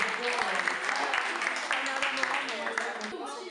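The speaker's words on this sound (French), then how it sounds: "on peut les applaudir encore parce qu'ils ont été très impressionnants" Applause from an audience at a Rennes digital-themed treasure hunt event, a dense continuous patter of clapping with voices mixed in over it, holding steady for a few seconds.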